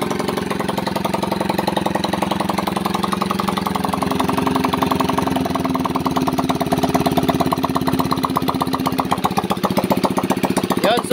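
A repaired small engine, apparently a lawn-mower-type motor that had soil inside, runs steadily with a fast even putter up close, slightly weak but sustained the whole time.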